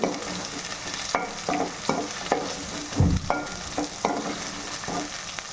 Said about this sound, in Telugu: పచ్చి వాసన రాకుండా బాగా వేయించుకోవాలండి. అల్లం వెల్లుల్లి పేస్ట్, ఉల్లిపాయ ముక్కలు, కరివేపాకు అన్నీ.